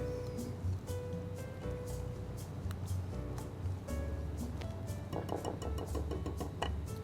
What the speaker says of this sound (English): next we're gonna add a Jiffy cornbread mix here. And we'll just mix that until it's blended in